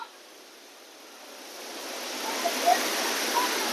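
A waterfall near a village in Nepal gives off a steady, soft rushing hiss that slowly swells louder, with a few faint bright splashes near the end.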